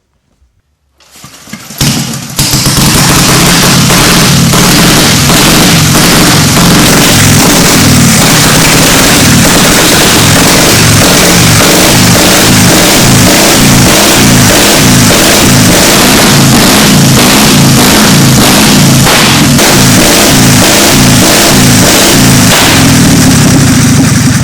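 A vintage Big Valve X motorcycle engine, already warm, fires up after a brief silence and runs loud and close, its rapid, uneven exhaust beats revving and pulsing steadily without any talk.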